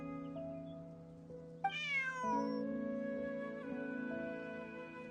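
Bonnie the cat meows once in the video game Wuthering Waves, a clear, close rising-then-falling cry heard over a sustained musical drone.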